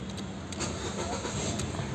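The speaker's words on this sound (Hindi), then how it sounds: "अभी हम चाबी से स्टार्ट करेंगे" A Ford car engine cranks and catches after a key turn, settling into a low, steady idle recorded close by.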